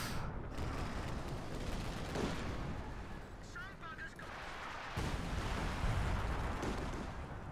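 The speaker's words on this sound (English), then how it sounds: "We got some more artillery coming in." An artillery barrage pounds the battlefield in Company of Heroes 2, a dense, continuous roar of distant booms and gunfire rumbling throughout, with a brief whistling shell and a heavy impact midway.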